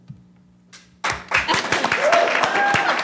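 Audience applause at a school district governing board meeting, a dense burst of many hands clapping that starts abruptly after a quiet pause and holds steady, fairly close and loud.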